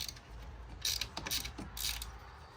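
A ratchet wrench removes bolts on a BMW 335d diesel engine during valve spring work, giving close, crisp bursts of rapid pawl clicking in about three short runs over a steady background.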